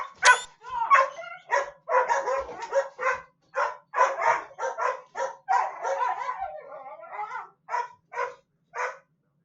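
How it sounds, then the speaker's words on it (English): A dog attacking the player in the video game Mass Effect: Andromeda, with a rapid run of snarling barks and yips, loud and close, ending in a few separate barks. "getting attacked by your own dog is getting old"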